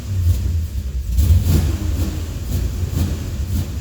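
A car engine fitted with Edelbrock E-Street EFI, struggling with a no-run condition, idles and revs roughly nearby, a loud, uneven low rumble sustained alone throughout.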